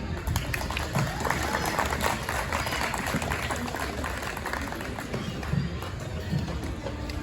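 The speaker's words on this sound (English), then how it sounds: "Again, just a big round of applause for these youngsters here." Applause from a fair crowd for young heifer showmen, a steady dense patter of clapping that runs the whole way through with a few louder claps standing out.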